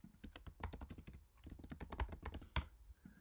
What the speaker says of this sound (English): let's actually dismiss the keyboard once we press the enter key, which I'm doing on my physical computer keyboard